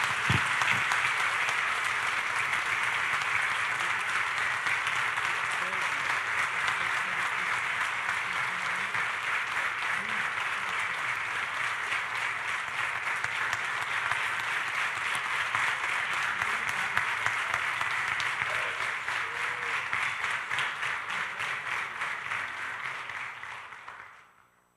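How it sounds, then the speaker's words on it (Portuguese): Sustained applause from a large church congregation at a pastor's retirement ceremony, steady and loud for over twenty seconds before fading out at the end. "Querem aplaudir o nosso querido pastor?"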